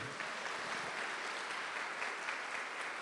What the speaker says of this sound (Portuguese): Pode aplaudir, gente.